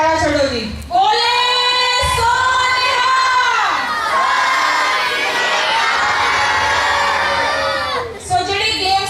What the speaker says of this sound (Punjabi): ਸੋ ਇਸੇ ਗੱਲ ਤੇ ਜੈਕਾਰਾ ਛੱਡੋ ਜੀ ਬੋਲੇ